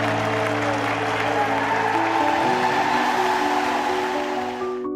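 A record cricket crowd at the MCG cheers Australia's World Cup win, a broad sustained roar with steady applause, overlaid by a held musical tone that shifts partway through.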